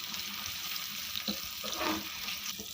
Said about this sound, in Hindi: सबसे पहले गाजर को हल्का हल्का फ्राई करना है।